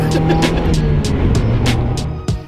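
A 1995 Mazda Miata M Edition drives along with a steady, loud engine drone and road noise that fills the whole stretch, with repeated bright bursts of wind or tire hiss and a brief bump near the end.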